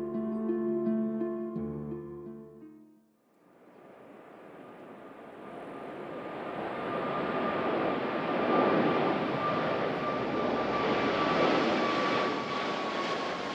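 An airplane at Narita International Airport roars into hearing after a brief musical passage, its jet noise building steadily louder and holding as a broad, sustained rush with no talk.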